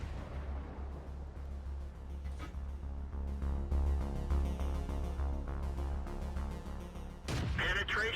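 Tank cannon fire in World of Tanks: a steady, deep engine rumble runs throughout, and near the end one loud, sharp gun blast cracks out over it.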